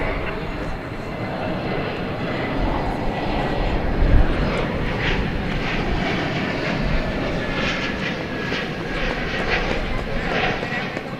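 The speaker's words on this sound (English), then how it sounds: "Flight 679, American Airlines. That's an Airbus A321neo." An American Airlines Airbus A321neo arriving from Phoenix at DFW Airport at night produces a continuous, broad engine roar that holds steady and fairly loud throughout, with a faint murmur of background noise.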